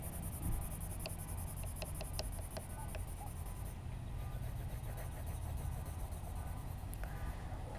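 Colored pencil shading up and down on paper, a steady faint scratchy rubbing with a few sharper strokes, close and quiet over a low background hum.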